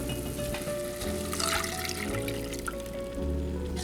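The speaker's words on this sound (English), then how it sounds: "we're gonna put in a cup of milk." A cup of milk is poured into butter and flour in a pan while making cheese sauce, giving a steady, close liquid pour with trickling over a constant background hum.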